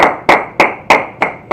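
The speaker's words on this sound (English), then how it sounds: "Clap it up." A handful of sharp claps, about six in a steady, evenly spaced rhythm, close and distinct with nothing else around them.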